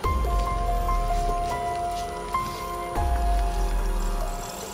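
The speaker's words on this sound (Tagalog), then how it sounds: "maulan pa." Rain falls steadily outdoors in a wooded area, a continuous patter of drops on surfaces with occasional louder splashes, heard on its own with no talking.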